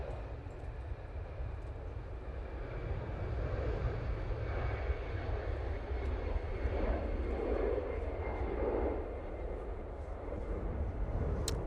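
Airbus A320ceo on its takeoff roll at Manchester Airport, a moderate, distant low rumble of jet engines that builds gently through the middle before easing, with no speech over it.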